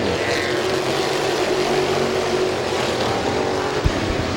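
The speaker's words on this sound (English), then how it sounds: "8-lap heat race number 1 is green." Race cars roar in an 8-lap heat race at Midvale Speedway, a continuous loud engine drone from the pack that stays steady, with a short sharp knock near the end.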